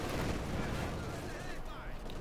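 Machine gun fire in a Company of Heroes 2 battle, a dense continuous clatter of gunfire and explosions, with a commentator talking over it throughout.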